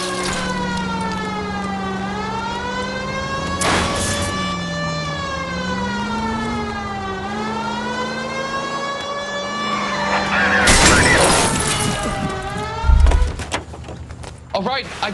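A siren wails in rising and falling sweeps throughout a car chase in the video game L.A. Noire, with engine drone beneath and a burst of crashing noise near the end.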